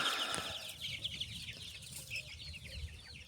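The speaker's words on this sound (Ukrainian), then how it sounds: "Такі курчатка в нас." Chicks chirp and peep in rapid, high bursts, close by, with faint clucking and rustling underneath; no talking.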